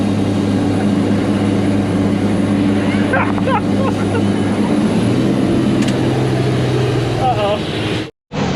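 A crew cab 2.5 ton overland camper truck's engine drones loud and steady as it pulls through the gears, the pitch shifting near the middle, with people talking briefly over it inside the cab.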